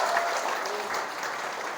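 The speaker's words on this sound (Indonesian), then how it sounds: "tepuk tangan untuk Citra Negara" Audience applause at a public speaking seminar for students, a dense, steady wash of clapping from a crowd that carries on evenly at close range for the whole stretch.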